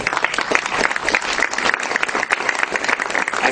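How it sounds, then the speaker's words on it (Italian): A crowd at a local event applauds to welcome the town mayor, a thick, continuous burst of many hands clapping, fairly loud and unbroken, with no voices over it. "Vi invito a salutarlo con un applauso."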